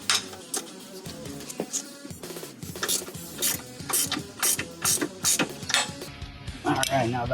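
A ratchet clicks in quick rhythmic bursts, close up, while it loosens bolts on a Subaru Forester's suspension during a lift kit install, with short pauses between strokes and occasional metallic clanks.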